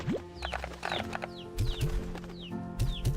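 Chickens cluck and chirp in short, scattered calls close by, with a low background hum and soft knocks between them.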